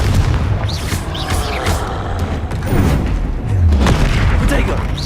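Confringo blasting spell cast in Hogwarts Legacy during a troll fight, loud booming bursts and crackling blasts over dense battle noise, with a low thump building toward the end; no clear talk.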